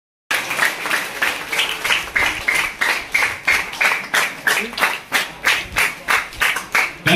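An audience at a Don Bosco school gathering claps in a strong, regular rhythm, loud unified beats roughly twice per second after a brief silent start.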